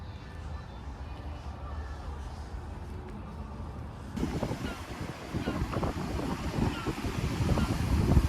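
Atlantic Ocean waves and wind roar in a continuous broad wash that swells louder partway through, with gusts buffeting the microphone.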